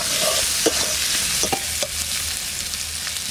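Potatoes and slit green chilies hit hot oil in a village kitchen pan, giving a steady loud sizzle with a few sharp spatters and scrapes of stirring near the start.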